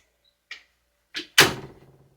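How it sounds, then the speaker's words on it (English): A door pushed shut indoors: a soft click, a short knock, then a firm thud that rings briefly before dying away, with no voices. "Shut my door."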